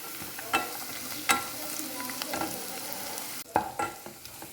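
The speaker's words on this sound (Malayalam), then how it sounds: "ഇനി നമുക്ക് കുറച്ച് കാഷ്യൂവിനിട്ട് കൂടി ഇട്ട് ഒന്നും കൂടി വഴറ്റാം." Onion and cashews sauté in a pan for a cauliflower roast recipe. A soft, steady sizzle runs throughout, broken by scraping stirs and a few louder clatters of the spoon against the pan.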